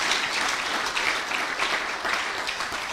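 Church congregation applauding the Lord, steady dense clapping from many hands filling the room, sustained without a break and no clear voices.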